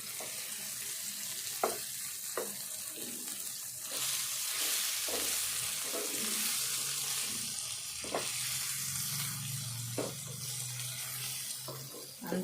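Cauliflower curry sizzles and bubbles in oil in a pan, with a steady frying hiss and occasional sharp clinks and scrapes of a spoon stirring, heard up close.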